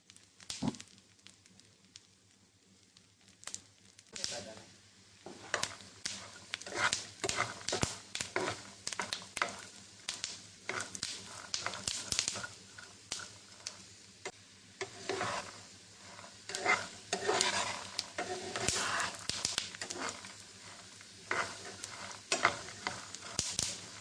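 Masala-coated peanuts frying in a pan over medium heat, stirred steadily with repeated scraping strokes over a soft continuous sizzle, close and fairly quiet, with no talking.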